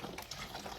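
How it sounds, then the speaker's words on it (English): Well water from Lee County pours into a bigger can, a steady broadband rush of running liquid filling the container, close and continuous throughout the brief moment. "Let's fill it up with some of that good old well water from Lee County."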